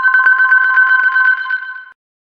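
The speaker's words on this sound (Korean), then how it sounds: "휴대폰이 울렸습니다." A mobile phone rings with a bright, steady electronic ringtone, loud and close, its repeated pulses running for about two seconds before cutting off, with no voices over it.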